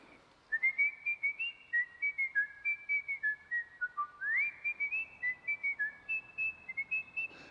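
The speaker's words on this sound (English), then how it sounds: "I'm trying to think of a calming song that I can whistle." A person whistles the Pirates theme song in a light, melodic run of short notes with a few sliding pitches, steady and fairly soft, with no talking over it.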